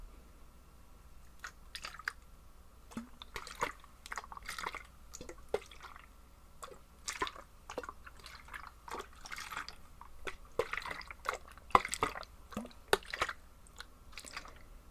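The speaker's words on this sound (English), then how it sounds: "This is a water bottle that I've had for quite a few years" A water bottle is handled up close in quiet ASMR style, with soft irregular taps, clicks and small wet sipping sounds spread through the quiet.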